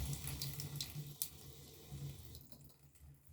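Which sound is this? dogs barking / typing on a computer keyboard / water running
water running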